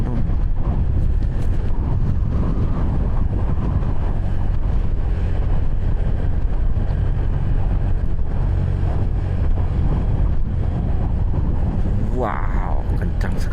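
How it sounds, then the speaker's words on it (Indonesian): Strong, dusty wind on a mountain road to Bromo buffets the microphone in a loud, continuous low roar with gusty surges, and a voice calls out briefly near the end. "Wow, kencang sekali anginnya."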